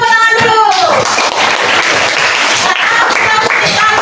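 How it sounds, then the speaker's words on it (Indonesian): Classroom of children applauding together during a science lesson, a dense burst of clapping that fills the room, with young voices calling out over the start. "Oke, beri tepuk tangan dulu"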